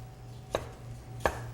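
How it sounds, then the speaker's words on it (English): A knife chops shallot on a cutting board in a kitchen, two distinct, close, crisp thuds spaced under a second apart over a low background hum. "And then I'm going to cut just a little more shallot to add to the sauce."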